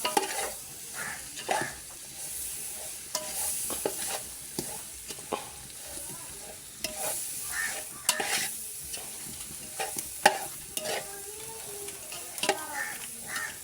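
Turmeric, coriander, chili and garam masala powders get stirred into a sizzling pan for a chicken curry, with repeated scraping strokes of a spoon against the pan over a low frying hiss, close and fairly quiet.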